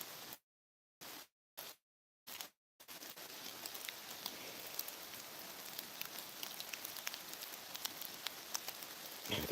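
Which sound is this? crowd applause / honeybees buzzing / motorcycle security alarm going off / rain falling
rain falling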